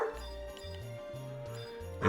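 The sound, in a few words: dog barking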